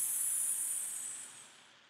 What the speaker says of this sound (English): Instantly, you hear the fizzy gas escaping.